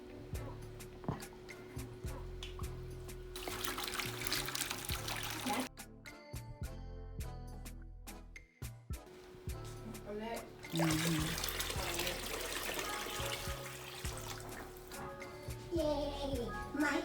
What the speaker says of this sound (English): we put the hose on and we're going to drain it